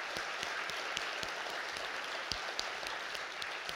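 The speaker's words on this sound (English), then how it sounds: "Let's give them a round of applause." Steady applause from an audience at a liberty-themed sponsored event, a dense even patter of many hands with a few sharper claps standing out, continuous throughout at moderate level.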